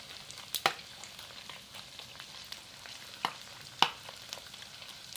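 Pork rinds deep-fry in hot oil with a constant bubbling sizzle, close up, and a few sharp spatters or clinks stand out above the hiss. No one speaks.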